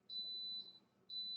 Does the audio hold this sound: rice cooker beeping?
yes